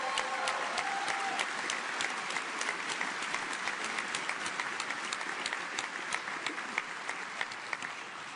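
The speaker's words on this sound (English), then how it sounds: "let's give them a big round of applause" Sustained audience applause at CES honoring hackathon winners, a dense steady wash of many hands clapping that fills the whole stretch at even loudness with no talk over it.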